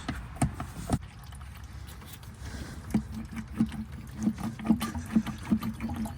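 Oil is hand-pumped into the front differential of a Subaru Impreza, with a run of rhythmic squelching pump strokes, close and fairly quiet, speeding up toward the end with no talking.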